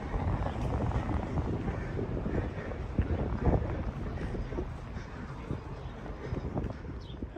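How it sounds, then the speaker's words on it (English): Wind buffets the microphone on a downtown street in Jasper, a steady rough rumble that lasts the whole time with faint background activity beneath it. "It's a bit windy here today."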